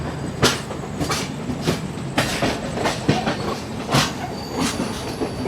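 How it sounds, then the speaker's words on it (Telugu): The Charminar Express rolls past close by, its wheels beating out a loud, rhythmic clickety-clack with sharp repeated clanks over a rumbling base and no talk. "ఈ ట్రైన్ చూసుకుంటే చార్మినార్ ఎక్స్ప్రెస్ ట్రైన్."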